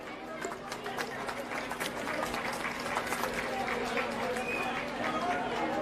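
A crowd at a senior citizens' home inauguration event in Kanti Nagar claps to welcome the chief minister, a moderate, uneven patter of many hands mixed with background chatter and a steady hum.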